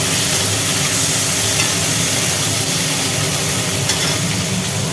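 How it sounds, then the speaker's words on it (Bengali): Loud, continuous sizzle of potatoes and onions frying, with occasional faint scrapes of stirring beneath the dense hiss. "নাড়াচাড়া করা হোক"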